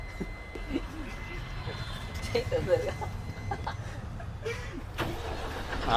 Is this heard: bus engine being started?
yes